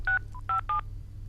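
Telephone keypad tones as a number is dialed: four short beeps in an uneven sequence, close and clear over a low background hum.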